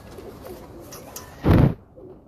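Breeder pigeons coo quietly under a murmur of background noise, broken near the end by one short, loud, broad burst like a flap or thump.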